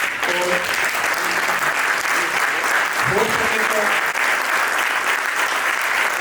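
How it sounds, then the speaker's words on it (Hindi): Audience at a chartered accountants' seminar on adjudication and first appeals stands and applauds, a dense, steady wash of clapping lasting throughout, with a brief voice and faint talk mixed in. "आप अपनी जगह पर खड़े होकर इनको तालियों से अभिवादन भी करें"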